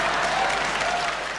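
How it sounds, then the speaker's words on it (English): Audience at the Miss Universe pageant breaking into loud, dense applause, a continuous wash of clapping lasting just over a second. "The crowd went wild."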